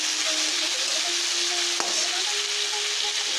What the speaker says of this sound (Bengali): এবার এর মধ্যে দিয়ে দেবো একটা বড় সাইজের টমেটো চৌকো করে কেটে রেখেছি, আর 3 থেকে 4টে কাঁচা লঙ্কা চিড়ে রেখেছি।